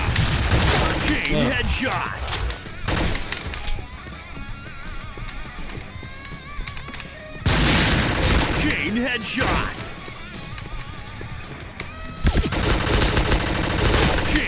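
Gunfire in the shooter game Point Blank, with dense bursts of rapid automatic shots and loud blasts recurring through the clip alongside mechanical weapon clicks, while someone talks over the action.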